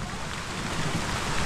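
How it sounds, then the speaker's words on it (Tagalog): Steady rain falls over the sea, a dense, even hiss of drops filling the scene without a break, fairly loud and close with no voices. "umuulan na sa dagat."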